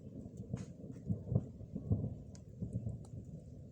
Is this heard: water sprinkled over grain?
no